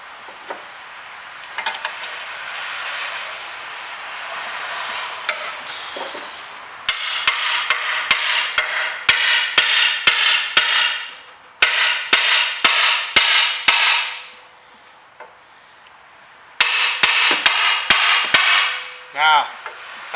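Hammer blows on the rear brake caliper of a Citroen C5, struck in quick irregular bursts of sharp metallic knocks, loud and close, with short pauses between runs.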